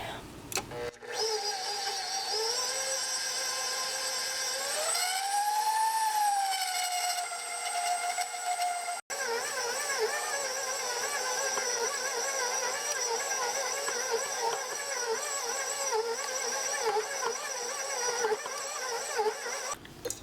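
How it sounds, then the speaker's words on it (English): Stand mixer working pandesal dough at medium speed: a whirring motor hum whose pitch rises and wavers, with a sharp break midway, continuing steadily close by. "And then I'm going to start mixing it until all of it is fully incorporated. And this is at like a medium speed."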